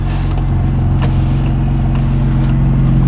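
A Saab Turbo X pulls out of a driveway on all-season tires, its engine idling low and steady with a faint rise in load, close and alone with no talk.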